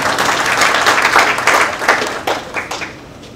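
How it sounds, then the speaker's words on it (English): An audience applauds a speaker at a talk on coffee development, steady clapping from a room full of people that tapers off toward the end. "please give a round of applause for Samuel Gurel"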